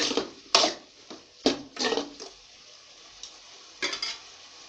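Mushrooms being stirred in a pan for a mushroom gravy, with a few distinct scraping strokes of a spoon against the metal pan, close and clear, separated by quiet pauses.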